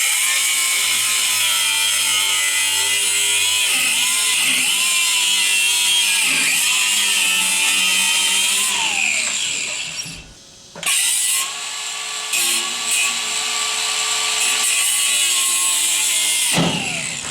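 An angle grinder cuts through the spring at the base of an RV jack, a loud, steady high-pitched whine with shifting pitch as the disc bites, one short pause midway, then continued cutting.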